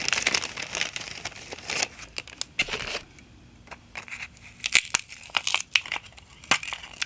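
Paper being torn and crinkled while making Halloween junk journal pages, close and intermittent rips and rustles in bursts, with a quieter stretch in the middle.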